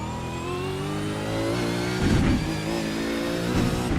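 A race car engine in a sim racing video game on a bumpy track holds a steady high drone, then revs and shifts with rising and falling pitch, loud and continuous with no talk.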